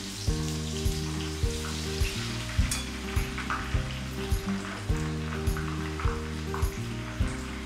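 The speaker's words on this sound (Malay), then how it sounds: "Kena kerak kacau ya masa goreng ni" Sliced onions frying in hot oil for sambal bilis, a dense steady sizzle close by, punctuated by regular rhythmic scraping knocks of a spatula stirring the pan about once a second, no talk.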